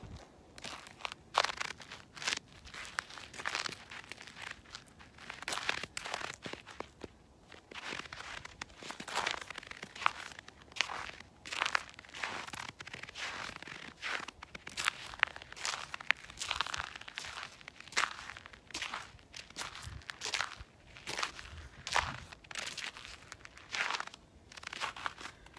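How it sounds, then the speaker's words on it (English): Boots crunch and crackle over icy snow in dense, irregular steps, close and fairly loud, with crisp crinkling bursts throughout and no talking. "This is more like ice noises."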